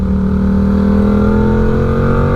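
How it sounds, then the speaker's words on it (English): A motorcycle engine runs loud and close while the rider accelerates and works through the gears, giving a sustained buzzing drone with gently shifting pitch and no talk. "accelerate out of the corner into third, downshift"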